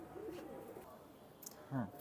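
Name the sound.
pigeon cooing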